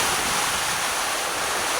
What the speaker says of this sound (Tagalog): Lakas ng hangin dito sa Spate ngayon.